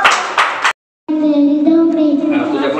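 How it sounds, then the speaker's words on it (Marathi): Hands clapping at a school National Science Day event, a few brief bursts of applause before a short pause, followed by a sustained harmonic tone. "टाळ्या वाजवायच्या सगळं"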